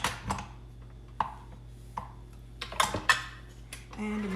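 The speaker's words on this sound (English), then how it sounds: "time to mix" Spoon or whisk knocking and scraping against a bowl while no-bake champagne cheesecake filling is mixed, a few separate clinks and taps spread out over a quiet background.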